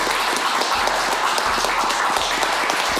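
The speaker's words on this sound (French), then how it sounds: "merci d'accueillir, sous un tonnerre d'applaudissements, Maestro Magoza" Audience applause for a comedian's entrance at a humour show rolls on dense and loud, with periodic low thumps from music or a beat running underneath.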